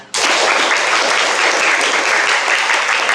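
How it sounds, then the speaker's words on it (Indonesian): A seventh-grade science class bursts into applause all at once, a loud, close, even roar of many hands clapping that holds steady to the end. "Beri tepuk tangan."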